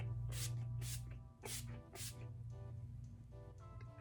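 Skindinavia makeup setting spray misted onto a face: four quick hissing spritzes in the first two seconds, then softer faint spray bursts over a low hum, no talk.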